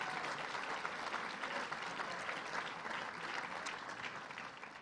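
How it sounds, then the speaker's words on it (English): Applause for Rob Speyer at a CBC award event: a broad, even roar of many hands clapping together, heard at a modest distance and steady from start to finish. "Let's give him a round of applause, Rob Speyer, for the great job he's doing."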